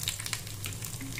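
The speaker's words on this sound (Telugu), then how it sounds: "ఆయిల్ వేడైంది, ఇప్పుడు దీంట్లో జీలకర్ర ఆవాలు వేసుకున్నాను." Cumin and mustard seeds crackle and sizzle in hot oil in a pan, a steady close frying hiss with small pops, heard alone.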